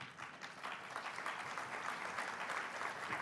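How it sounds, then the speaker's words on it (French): An audience at a congress applauding, a dense, steady wash of clapping from many hands filling the hall without a break. "vous pouvez vous applaudir même plus fort que ça."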